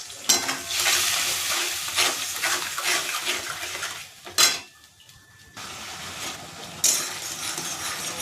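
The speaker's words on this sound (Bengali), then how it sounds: "এবার নাড়বো।" A spoon scrapes and stirs spice paste with turmeric and salt in a sizzling pan for an egg dish, loud close bursts of stirring broken by a brief quieter pause, with metal clinks against the pan.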